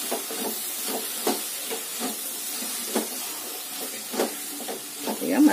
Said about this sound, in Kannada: ಈಗ ಮಸಾಲೆ ಎಲ್ಲ ಸ್ವಲ್ಪ ಫ್ರೈ ಮಾಡಿ